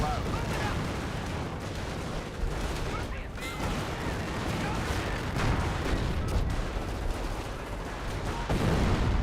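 Rifle and assault-rifle gunfire from STG and G43 squads in a Company of Heroes battle, a dense continuous rattle of shots and distant blasts that never lets up, with a voice talking over the top.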